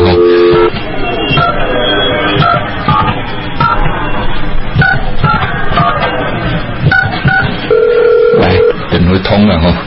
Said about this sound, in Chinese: 咱个就卡一下电话吼